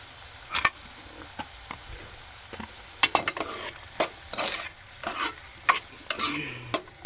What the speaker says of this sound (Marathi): ढवळून घेतो